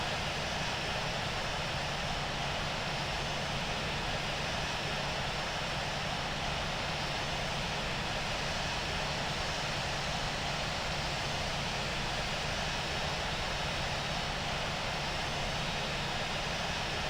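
Airliner engines in Infinite Flight during a takeoff roll from runway 14 right at Madrid, a steady broadband roar holding at an even level throughout with no speech.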